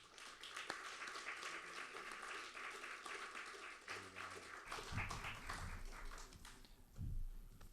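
An audience applauds a lecturer at a Brazilian literary conference, with sustained steady clapping from a medium-sized crowd that swells and then thins toward the end, leaving a few scattered claps and low rumbling.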